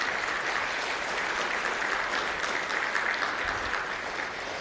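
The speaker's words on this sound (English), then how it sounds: "So let's give them the round of applause, please." Steady, dense audience applause at a general chair's report during a functional programming conference, continuous clapping from a large crowd at even loudness throughout with no voices over it.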